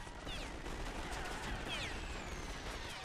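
Machine gun fire in a WW1 battle from The Great War mod for Total War, heard as a faint, distant, continuous crackle of shots blended into steady battlefield noise.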